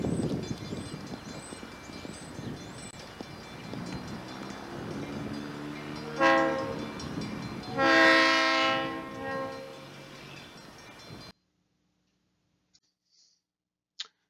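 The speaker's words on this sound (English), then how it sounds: "This is just a snippet of some new video we found on Bendix Drive of the northbound freight." A South Shore northbound freight train passes through an industrial park spur near South Bend, Indiana, with a steady rumble of rolling cars and a loud horn blast midway, then the sound cuts to near silence.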